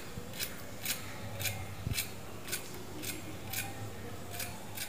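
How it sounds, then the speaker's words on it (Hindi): Crisp crunching of a fried sago patty repeats at an even pace, about nine sharp crunches close up over a quiet background. "जैसा कि आपने आवाज़ सुना बिल्कुल एकदम से करारी बनी है"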